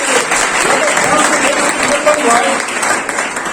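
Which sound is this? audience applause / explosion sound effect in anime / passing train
audience applause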